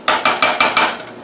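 Bacon shifted around in a thin-bottomed pan, giving five quick, evenly spaced metallic clinks and scrapes close by, each fading quickly, with no voices.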